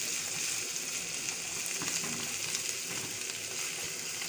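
Steady soft sizzling of chopped ingredients and a handful of coriander frying lightly in ghee in a pan, a continuous even hiss with faint stirring, no talk.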